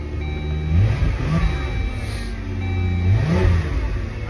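A car accelerates hard, its engine revving and climbing in pitch twice in close succession, loud and near, with no speech over it.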